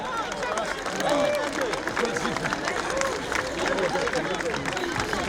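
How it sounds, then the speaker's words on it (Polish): A crowd claps and cheers for a presidential candidate at a rally in Nowy Sącz, a dense continuous wash of applause with a loud voice speaking over it throughout. "brawo dla naszego kandydata, brawa!"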